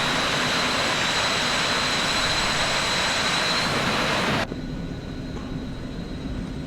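Jet engines of an airliner in the X-Plane flight simulator run at a steady loud roar with a high whine, cutting abruptly to a quieter, duller hum partway through.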